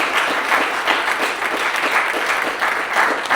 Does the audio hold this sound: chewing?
no